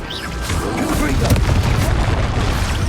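A Confringo blasting spell explodes in Hogwarts Legacy, a loud rumbling boom that fills the whole stretch with dense, sustained crackle and roar, with no pause or quiet tail.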